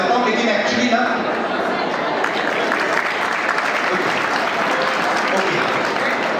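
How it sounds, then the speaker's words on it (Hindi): An audience at a Hindi-language life-coaching talk applauds in a broad, steady wash of clapping that holds at an even level throughout. "ओके चलो, मैं आपके लिए तालियां बजवा देता हूँ"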